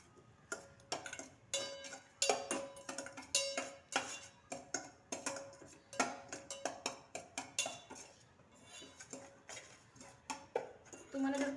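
Semolina roasting in ghee in a pan over low heat, a spoon stirring and tapping against the pan in a steady series of quiet, sharp clicks and scrapes.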